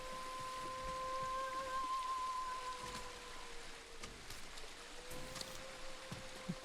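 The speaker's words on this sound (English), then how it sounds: "Great, now it's raining." Rain patters steadily in the video game Ghost of Tsushima, soft and constant, with faint tonal game sounds drifting over it and a few light drop ticks.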